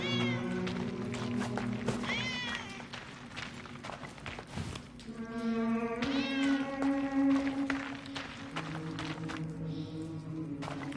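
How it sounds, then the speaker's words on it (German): A cat meows repeatedly in drawn-out, rising and falling cries, close and loud, with short pauses and a few soft thumps between calls. "Wie zum Teufel kommt die Katze hier rein?"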